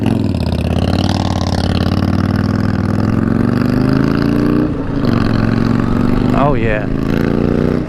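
A 2020 Harley-Davidson LiveWire electric motorcycle accelerates hard, its motor whine climbing steadily in pitch over a loud rush of wind, close and continuous. A rider briefly exclaims near the end.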